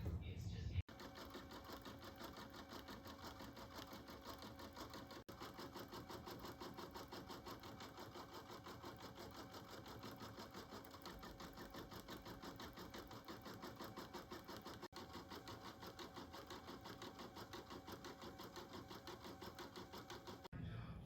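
An in-the-hoop embroidery sewing machine stitches white thread details on a country bear stuffie, a steady rapid mechanical chatter running without a break for about twenty seconds at an even level.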